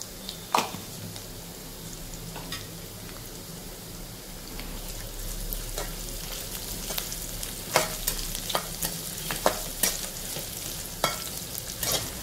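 Onions and cumin fry in a pan for an Andhra-style prawn curry, with a steady close sizzle and occasional stirring scrapes and taps throughout.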